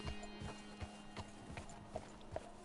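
Horse hooves walk slowly down a steep mountain incline in Red Dead Redemption 2, soft, evenly spaced thuds at a walking pace, fairly quiet against a faint background hum.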